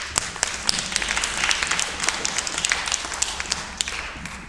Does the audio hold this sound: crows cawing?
no